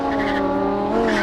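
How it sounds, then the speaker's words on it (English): A Lamborghini Huracan engine roars hard under acceleration, a loud, steady high-revving drone with strong harmonics that climbs slightly toward the end, close and continuous with no talk. "The Huracan not only sounds like a race car,"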